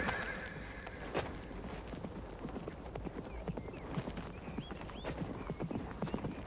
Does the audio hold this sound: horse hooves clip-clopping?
yes